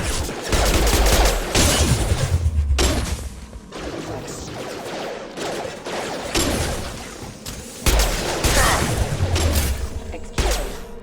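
Rapid bursts of gunfire and impacts crackle loudly in the sci-fi shooter Mass Effect 2 on Insanity difficulty, with clustered volleys separated by short lulls and brief voices between.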